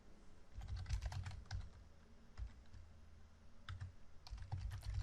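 Code is typed on a computer keyboard in SQL Developer, with quiet, close clusters of key clicks in quick irregular bursts and brief pauses.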